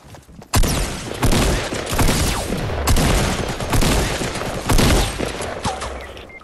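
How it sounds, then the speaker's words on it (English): Gunfire in a shooter video game during a squad battle, with dense overlapping bursts of shots and booms that stay loud and continuous throughout. "Shoot him, shoot him, shoot him."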